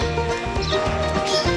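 A riding horse walks at an easy pace, hooves clip-clopping steadily and close by, with a faint continuous background underneath.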